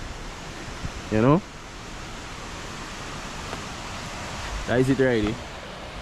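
A Grenada waterfall pours as a steady, broadband hiss of falling water that fills the whole stretch, while a person talks briefly at the start and again near the end.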